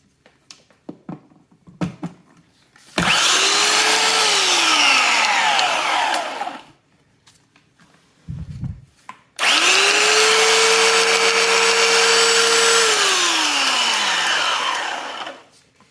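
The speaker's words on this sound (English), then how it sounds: "So what about this old Black & Decker belt sander?" An old Black & Decker belt sander powered from a battery runs twice at full speed, each run a loud, steady motor whine lasting several seconds that spins up and winds down, with handling clicks in between.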